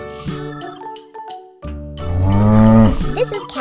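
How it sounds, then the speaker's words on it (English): A cow moos in a long, loud, drawn-out low call that swells and then fades, following a few shorter farmyard sounds, with no talk over it. "This is cow."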